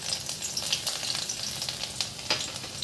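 Chopped garlic sizzles in hot mustard oil for a tadka for sarson ka saag, a soft, steady hissing crackle with small pops, fairly quiet and without talk.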